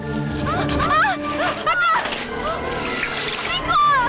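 Shower water splashes and spatters in a bathroom, running steadily for a few seconds beneath voice-like tones and background sound.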